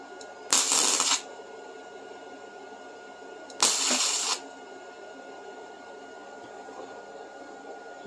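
Two short, sharp crackling bursts of MIG tack welding on a thin, rusty Triumph Spitfire floor pan, each lasting under a second and about three seconds apart, over a low steady background hum.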